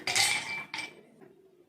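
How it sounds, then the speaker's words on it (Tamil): Ice cubes dropped into a glass while making a ripe mango masala punch in a kitchen, two quick clattering clinks close by, followed by quiet. "இப்போது இந்த கிளாஸில் ஐஸ் கியூப்ஸ் போட்டுக்கலாம்."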